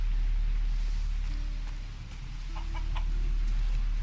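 A chicken in the video game Risen gives a few soft, brief clucks over a steady low in-game hum, with no talking.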